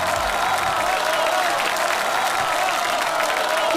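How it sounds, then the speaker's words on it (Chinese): A theater audience at a variety show of folk performances, acrobatics and comedy claps in a steady, dense wash of applause that stays constant throughout, with faint crowd murmur underneath. "谢谢大家的掌声鼓励"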